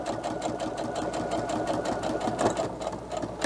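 A sewing machine stitching down the middle of a fabric face mask runs in a fast, even mechanical whir with rapid needle clatter, close and continuous throughout.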